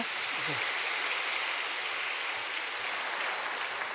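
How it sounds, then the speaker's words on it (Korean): A church congregation at a Sunday worship service applauds in a dense, even wash of clapping heard from across the sanctuary, steady for a few seconds with faint voices underneath. "다시 한 번 더 크게 격려의 박수."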